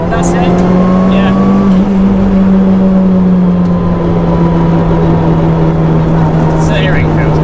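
A Mitsubishi Evo 5 engine drones steadily under load as the car pulls away in second gear, a loud, sustained tone close inside the cabin, with occasional sharp clicks and bumps over it.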